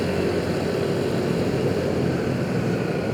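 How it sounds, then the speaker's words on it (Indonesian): A Lion Air airliner lands near Soekarno-Hatta airport, a steady broad roar heard from a road on the airport's southern perimeter. It is blended with constant wind rush and stays even throughout. "Yes, Lion Air lagi landing teman-teman."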